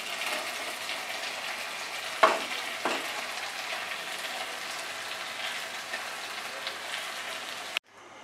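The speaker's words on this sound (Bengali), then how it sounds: "ভালো করে মিশিয়ে দেব, দিয়ে আরো 5 মিনিট আমরা নাড়বো।" Boiled, washed banana flower being stirred into a spice mix frying in a pan for a Bengali prawn dish, a steady broadband sizzle with a couple of soft scrape knocks near the start and a brief cut near the end.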